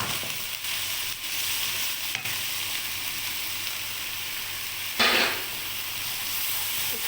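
Garlic paste and ginger powder frying in a pan for an aloo kofta curry, a steady close sizzle with a brief stirring scrape partway through and no talking.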